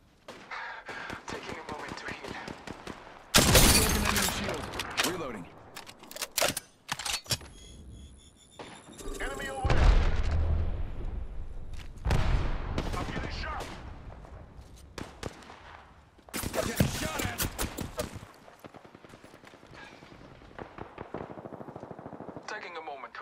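Apex Legends gunfire, rapid automatic bursts and single sharp shots rattling in clusters, loud and close, with gaps of quieter game noise and brief callout voices in between.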